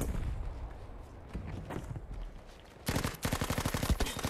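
Gunfire in the video game Battlefield 5 on the Iwo Jima Pacific map, rapid automatic bursts kicking in near the end after a stretch of rumbling background battle noise.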